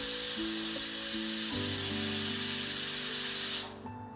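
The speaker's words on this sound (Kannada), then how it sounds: "ಕುಕ್ಕರ್ ಲಿಡ್ನ ಕ್ಲೋಸ್ ಮಾಡಿ ಒಂದು 4 whistles ಬರೋವರೆಗೂ ಪ್ರೆಷರ್ ಕುಕ್ ಮಾಡೋಣ" A pressure cooker with its lid closed, cooking biryani, lets off a loud, continuous steamy hiss over background music, which cuts off abruptly near the end.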